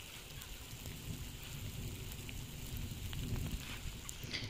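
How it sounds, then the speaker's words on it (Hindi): Steady rain falling outdoors, a dense hiss of drops with a low rumbling undertone, continuous and fairly even throughout. "अच्छा जी बारिश शुरू हो चुकी है"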